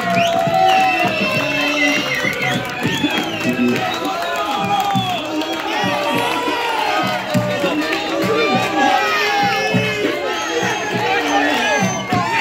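A lively crowd at a festive parade party cheers, whoops and claps loudly and continuously for an announced contestant, with shouts and voices mixed throughout.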